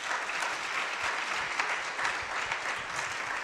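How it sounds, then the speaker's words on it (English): An audience at a Mahasamadhi Day gathering in Bradford gives a round of applause, a dense, even clapping held at a steady level for several seconds. "I think he deserves another round of applause"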